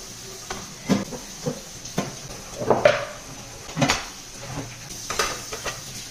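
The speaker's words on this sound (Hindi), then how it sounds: "मुझे बर्तन धोना बहुत बुरा लगता है और यही सबसे ज़्यादा करना होता है।" Dishes, pots and pans being washed by hand, with scattered clinks, knocks and scraping clatters at an irregular pace, close and moderately loud, with no speech.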